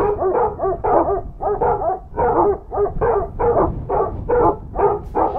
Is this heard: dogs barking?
yes